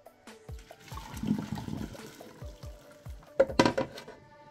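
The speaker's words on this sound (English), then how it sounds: "Pour the water off of this now." Boiling water being poured off salt fish in a pan, a splashing gush of liquid with clinks of the pan, building to a louder pour near the end with no talking.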